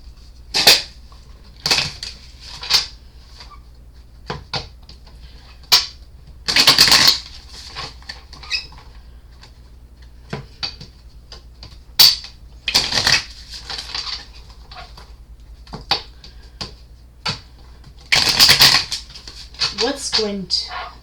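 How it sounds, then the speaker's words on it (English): Tarot cards are shuffled in repeated short, crisp bursts of riffling and snapping, with a person talking between the bursts. "I'm going to shuffle the cards."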